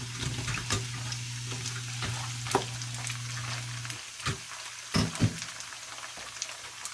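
Sprite-marinated shrimp cook in a pan over high heat with a continuous sizzle, a low hum running beneath it, and a few sharper clatters near the end. No one speaks.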